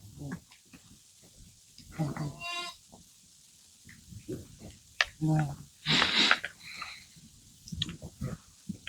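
Sheep and goats bleating in a farm pen, several short nearby calls scattered among bursts of talking and background rustle.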